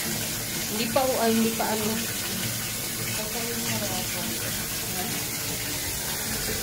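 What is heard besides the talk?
cold water running from a tap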